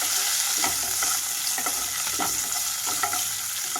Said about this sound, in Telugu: ఇప్పుడు ఇందులోనే పచ్చిమిరపకాయలు అలాగే ఎండుమిరపకాయలు వేసి వేయించుకుంటున్నాను